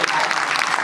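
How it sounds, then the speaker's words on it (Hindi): Dense applause from a live audience at a Hindi poetry recital, steady and continuous clapping throughout the short burst with no voices on top. "तालियां कमजोर हैं आपकी"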